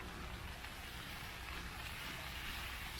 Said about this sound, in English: Hope you can hear it's raining.